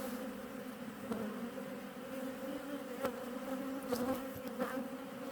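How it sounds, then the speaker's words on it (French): A steady, dense hum of many honeybees buzzing together in a hive during a winter inspection, soft and continuous, with individual insects droning past now and then. "il y a quand même beaucoup d'abeilles"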